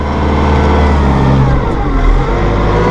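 A Massey Ferguson 1840M or 2850M eHydro compact tractor engine runs loud and close, a steady mid-pitched drone with a slight rise and fall in pitch over a few seconds, with no voices.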